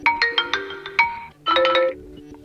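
A Vivo V20 SE smartphone plays a melodic ringtone: a bright run of chiming tones in quick pulses, a short pause, then another burst of sustained notes, loud and close with no talking.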